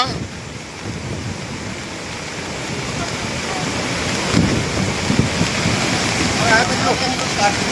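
Floodwater surges through the Ravi river in a continuous broadband roar that swells and grows louder toward the end, with wind buffeting the microphone.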